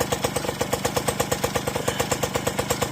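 Yamaha Chappy moped with a four-speed manual gearbox, its small engine running with a rapid, even putter of regular pulses, steady and close, with no voices.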